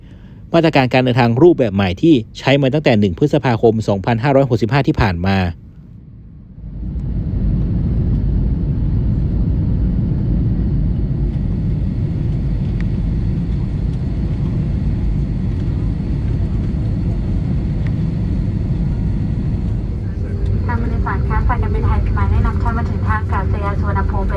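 Steady, loud cabin rumble of a Thai Smile airliner flying from Phnom Penh as it descends toward Suvarnabhumi Airport, with a person talking over it at the start and near the end.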